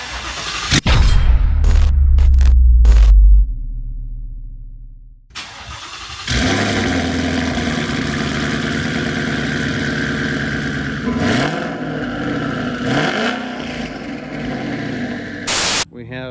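An S550 Ford Mustang GT fitted with a twin-turbo Corsa active exhaust and double H-pipe cold-starts with a sharp burst and a deep roar, then settles into a loud, steady idle with brief revs and clicks.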